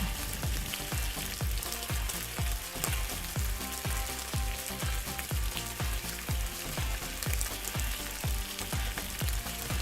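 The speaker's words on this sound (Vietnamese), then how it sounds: "Sau khi dầu nóng thì mình bắt đầu cho móng giò vào chiên giòn" Pork trotters deep-frying in hot oil over medium heat make a loud, continuous, crackling sizzle, punctuated by a steady run of sharp pops and clicks.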